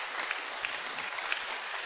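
A church congregation at a Sunday service claps together in sustained, dense applause, steady and fairly loud throughout with a few sharper individual claps standing out.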